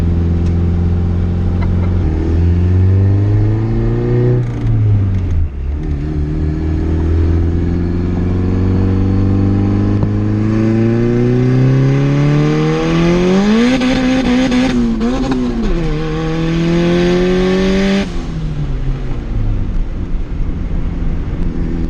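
Built single-cam car engine bouncing on a two-step launch limiter, loud and continuous close up, with a steady rough idle that climbs into a long rising rev, holds, then drops back down.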